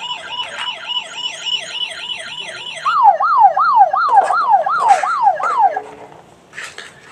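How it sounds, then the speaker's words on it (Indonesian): A small toy ambulance plays an electronic siren that first warbles rapidly, then switches to a slower wailing sweep, loud and close, ending with a few clicks and handling noises. "di sini ada mobil ambulan warna merah putih"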